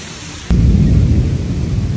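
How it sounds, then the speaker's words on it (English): Heavy thunderstorm outdoors before a dinner with friends: a sudden loud crack of thunder at about half a second rolls into a steady low rumble, mixed with rain and gusting wind, no talking. "There's lightning and there's thunder and there's a lot of wind"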